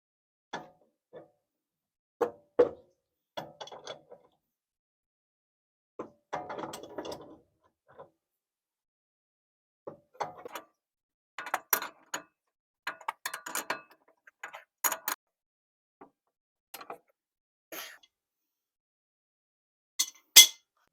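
A ratchet clicks in short irregular bursts while tightening a ball joint to the control arm on a classic Mopar, close and crisp against near silence, with occasional metallic clinks between the runs.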